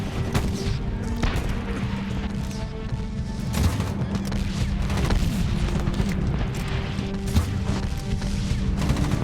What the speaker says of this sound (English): Which means we can throw grenades like crazy.